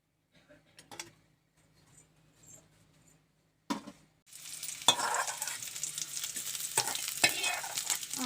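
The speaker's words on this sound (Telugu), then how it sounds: "ఇప్పుడు ఇట్లాగా నూనె వేసుకొని లైట్ బ్రౌన్ కలర్ వచ్చేంత వరకు వేగించుకోవాలి" Nalleru (adamant creeper) stems frying in about a tablespoon of oil in a pan until light brown, with a few soft stirring clicks at first, then a sudden steady sizzle broken by occasional scrapes and stirs.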